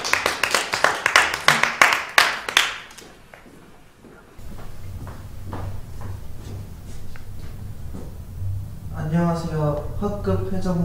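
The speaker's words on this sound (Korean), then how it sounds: "박수로 맞이해주세요." A classroom of students claps for class president candidates, a crisp burst of many hands lasting a few seconds before it stops and voices talk.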